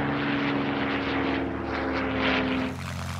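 A Hawker Hurricane, a WWII single-engine propeller fighter, drones steadily with a sustained engine tone and broad roar, dipping briefly before the note drops near the end, with no speech.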